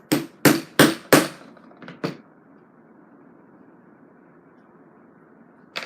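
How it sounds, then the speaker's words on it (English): Four sharp, loud hammer blows land in quick succession on a punch driving stitching holes through calfskin leather, then two lighter taps follow, leaving a quiet background hum. "then we're going to punch stitching holes all the way down there and stitch it up so it's nice and solid"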